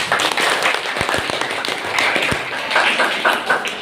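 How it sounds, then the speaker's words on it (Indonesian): A classroom group claps together, and a burst of mixed applause with a few sharp, distinct claps carries on steadily for a few seconds. "Oke, beri aplaus."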